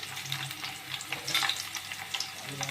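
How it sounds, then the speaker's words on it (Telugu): Curry leaves frying in oil in a pan for a village-style fish curry, a steady close sizzle with crackling pops while a ladle stirs them around, no voices. "కొంచెం కరివేపాకు వేసుకోవాలి."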